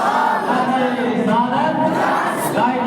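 Crowd at a Quran memorisation and recitation competition at a madrasa in Poonch chanting back in unison after a takbir slogan call, a dense steady roar of many voices throughout, loud and close.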